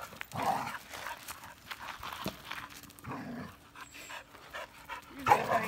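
Dogs playing together, with panting, scuffling and brief growly vocal bursts at close range, while people talk intermittently in the background.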